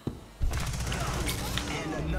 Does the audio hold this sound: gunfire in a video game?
yes